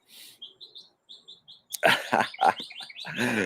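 A small bird chirps in short, high repeated notes, then louder, sharper tweets burst in close by.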